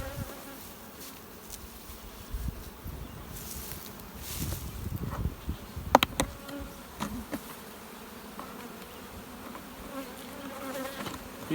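A steady swarm of honeybees hums continuously around beehives close by, with individual insects buzzing past now and then over a soft outdoor background.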